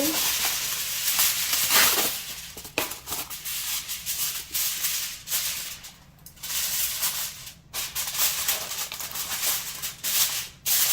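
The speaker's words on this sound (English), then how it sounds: "Now I'm going to cover it up with aluminum foil." Aluminum foil crinkling and rustling as it is spread over a pork dish, close and continuous with irregular scrunching bursts and short pauses for several seconds.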